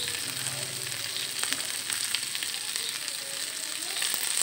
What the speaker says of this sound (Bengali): হালকা আছে খুব ধীরে ধীরে আমি এটা ভেজে দেব, একটু সময় নিয়ে, এই ভাজাটা একটু সময় নিয়ে ভাজতে হবে